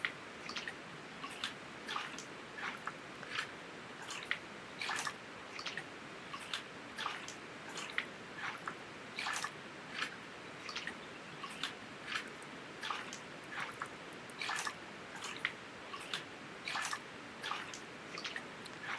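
Water in a gold rush panning game sloshes and drips in a faint, repeated rhythm of short splashes and squishes as dirt is washed out of a bucket, with no one talking.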